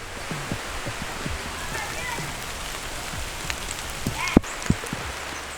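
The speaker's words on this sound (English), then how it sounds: "it just continued to rain harder and harder" Heavy rain falls steadily on a permaculture homestead, a constant soft wash of water with scattered louder drips and taps, one sharp knock near the end, and no talking.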